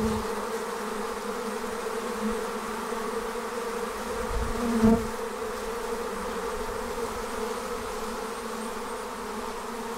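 Honey bees swarming out of an observation hive, a dense, continuous buzzing drone of many insects close by, steady throughout with a brief louder pass near the middle.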